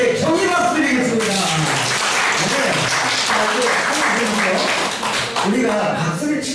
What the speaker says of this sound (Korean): 환호성과 함께 경의 박수 드리겠습니다